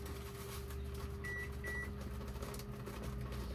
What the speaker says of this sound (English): my oven just beeped at me